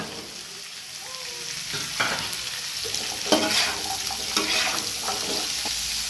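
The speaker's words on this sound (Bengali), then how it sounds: "পেঁপের ছোট ছোট করে ছক্কা কাটা পেঁপেগুলো এর মধ্যে দিয়ে দিলাম।" Small diced papaya cubes fry in hot oil in a pan, a soft steady sizzle broken by a few stirring scrapes and clicks, close up and with no one talking.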